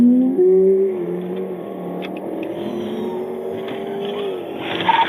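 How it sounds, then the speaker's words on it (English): A stolen Dodge Challenger Scat Pack accelerates hard on a city street at night, engine pitch climbing and shifting through gears in a loud, sustained roar close by. "The moment it turns onto West Wesley Road, it immediately accelerates"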